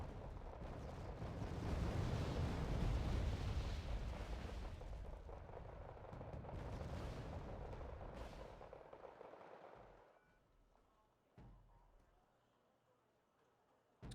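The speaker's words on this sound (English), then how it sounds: "I'm shooting artillery here, I think" Artillery bombardment in the strategy game Wargame Red Dragon: a sustained deep rumble of shelling and explosions that builds, holds, then fades, followed by a few distant isolated booms.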